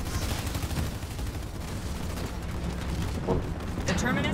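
Steady distant gunfire and rumbling combat from a Halo Wars 2 battle, a continuous wash of shots with no pauses, with voices talking over it.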